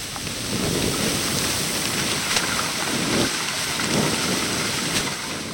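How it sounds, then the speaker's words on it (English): Rain sound effect made for an animated short, a dense continuous hiss of heavy rainfall with low rumbling swells like distant thunder, steady and fairly loud with no voices. "Now I have to do rain."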